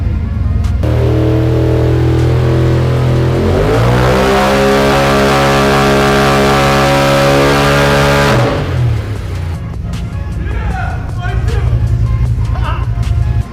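A Polaris RZR turbo engine revs hard through a pull, its rising harmonic whine climbing and holding loud before dropping back to a rough idle, with people talking over it near the end.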